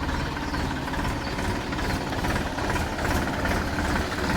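A farm tractor engine runs with a steady, loud, continuous rumble at close range. Nobody is talking over it.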